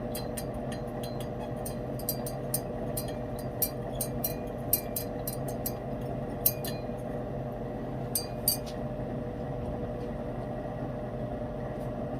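A glass stirring rod clinks in a container of aqua regia gold solution, a series of light, bright taps over a steady low background hum, quiet and close.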